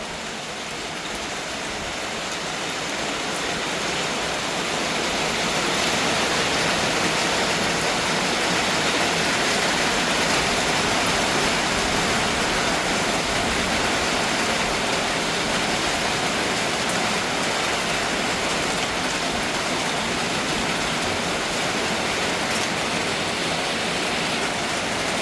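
Steady rain falls in Sakon Nakhon on a gusty day at a farm, a dense, loud, continuous hiss that swells slightly and holds with no talk.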